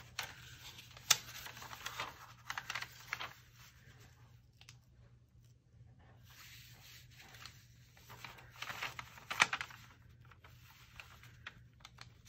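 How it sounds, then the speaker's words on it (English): Paper packaging from a 12-pack is folded and creased for a junk journal page, with soft rubbing, crinkling and sliding bursts coming in two spells separated by a quieter pause, close and moderately quiet. "what I'm going to do then is I'm going to fold it"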